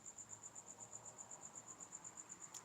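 Crickets chirp steadily in a quiet indoor space, a faint, high, rapid pulsing trill repeating evenly throughout with no voices.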